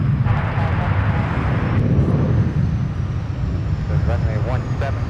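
A jet airliner lands on runway 12 right at Minneapolis–St. Paul airport, a steady low rumbling roar filling the clip while voices talk over it.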